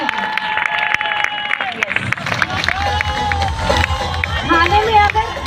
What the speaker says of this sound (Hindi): तो आप तालियां नहीं बजाएंगे तो वो आगे बढ़ाएंगे ही नहीं।